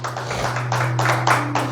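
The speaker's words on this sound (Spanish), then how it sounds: "Dale un aplauso grande al Señor." A church congregation applauds together, a dense, steady wash of many hands clapping that holds for under two seconds over a sustained low hum.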